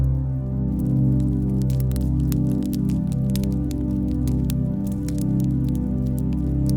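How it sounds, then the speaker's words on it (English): Steady rain near a riverside tent, with dense dripping and pattering over a constant low rushing bed, continuous and close with no pauses. "The tent that heard the river rain."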